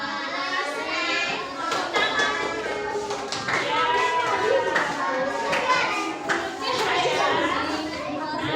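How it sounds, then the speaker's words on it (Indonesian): Classroom applause from students during a lesson on the human movement system, with scattered claps and taps mixed with children's chatter and a teacher's voice throughout, uneven and lively rather than a steady ovation. "Tepuk tangan"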